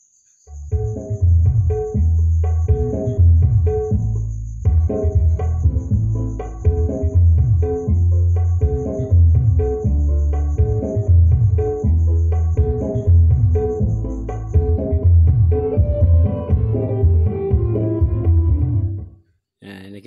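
Bass-heavy music plays through the low-frequency output of a homemade 3-way active crossover, with steady thumping low tones and a faint high whine, at moderate volume until it stops near the end.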